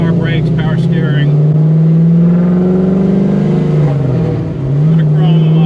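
A 1969 Firebird with a 4-speed and an engine taken from a '73 Bonneville runs loud and close with a steady low drone, dipping briefly before settling again, while someone talks over it.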